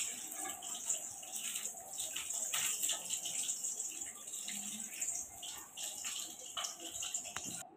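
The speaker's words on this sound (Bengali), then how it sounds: "এবার আমি এখানে জলটা দিয়ে দেবো।" Water poured into a pot of browned mutton curry, a steady splashing and trickling stream running throughout, fairly close and moderately loud.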